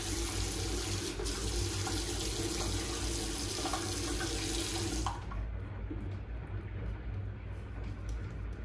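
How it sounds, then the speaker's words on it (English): Water gushes steadily from a tap filling a bath upstairs, a loud continuous broadband rush through most of the clip that thins and softens slightly toward the end, with no talking. "I think someone's running a bath upstairs"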